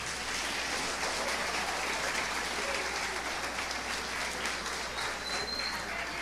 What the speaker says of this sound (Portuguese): Aplauda o Senhor, irmão